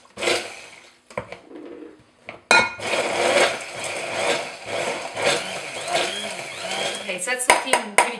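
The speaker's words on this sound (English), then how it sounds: "I'm going to just use my stick blender" A stick blender whirs through chilli oil in a kitchen, its motor buzzing in uneven bursts that rise and dip as it works, with a few knocks against the container and some talk alongside.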